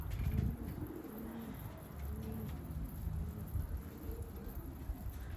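Pigeons at a coop on a very hot day, bathing, give soft, low, repeated cooing close by against a steady background hiss.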